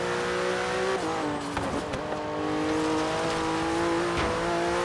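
Porsche Turbo S engine in the racing game Forza Horizon 3, a steady loud drone with shifting pitch as the car accelerates, a brief dip and tire noise midway, continuous throughout with no talk.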